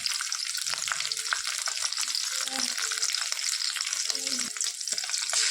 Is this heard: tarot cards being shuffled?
no